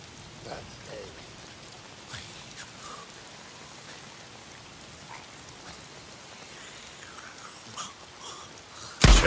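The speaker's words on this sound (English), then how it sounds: "Why is it always raining?" Steady rain patters on surfaces in the video game Days Gone, a soft continuous hiss of drops with occasional louder splashes, moderately quiet and alone until a brief loud bump at the end.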